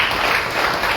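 Church congregation applauding, a steady wash of clapping from a crowd that fills the short moment without any talk over it.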